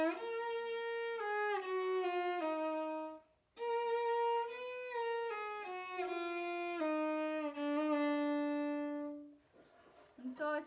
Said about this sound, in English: And so no vibrato makes it sound like this.